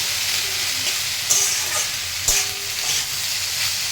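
Pasta with carrot, chili and chopped onion cooks in a pan, giving a continuous bright sizzle close by, broken by a couple of louder clattering stirs.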